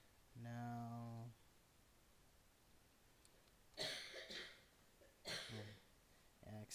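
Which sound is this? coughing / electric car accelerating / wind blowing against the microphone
coughing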